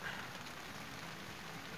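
Light rain falls steadily outdoors beside beehives, a soft continuous patter and hiss with no voices over it.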